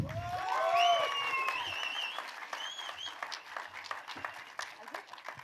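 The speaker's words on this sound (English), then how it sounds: "Round of applause, everybody, once again." Audience applause at a film trailer launch event, steady crowd clapping continuing throughout under a background of whistles and cheers.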